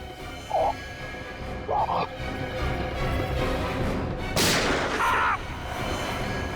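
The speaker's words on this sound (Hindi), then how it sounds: "गोली चली है" A single sharp gunshot cracks out over a constant noisy background, with a few short barks or yelps before and after it.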